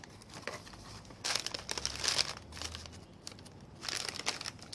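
Plastic food packet of ginger beef and rice torn open with teeth, a close crinkling and ripping in a few bursts, with quiet pauses between them.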